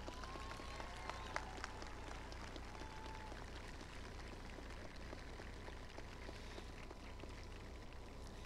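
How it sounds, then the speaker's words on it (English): Applause from the crowd at a high school graduation ceremony, a steady dense wash of clapping that holds at an even level for the whole stretch with no talk over it. "Let's give him a round of applause."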